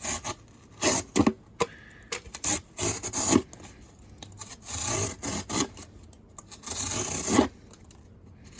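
A CIVIVI Propugnator knife with a dual grind slices through cardboard, producing short bursts of dry rasping and scraping strokes with brief pauses between them, close and clear with no speech.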